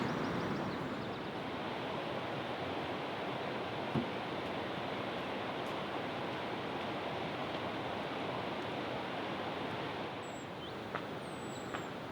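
A waterfall in Briksdalen, Norway roars in a constant, dense rush of white water at night, steady and close throughout, with a faint chirp or two near the end.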